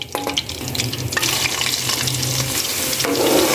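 Steady, dense sizzling of onions frying in hot ghee, with occasional stirring scrapes, close and continuous.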